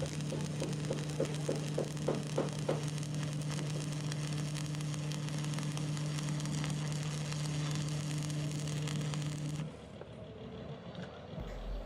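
An arc welder using a number 10 welding rod builds up a 1.5-ton AC compressor piston, giving a steady crackling sizzle over a strong electrical hum that stops abruptly near the end.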